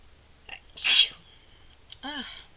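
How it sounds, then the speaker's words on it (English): A single sudden human sneeze bursts out loud and close during a quiet moment, followed shortly by a brief voiced exclamation. "That sneeze came out of nowhere."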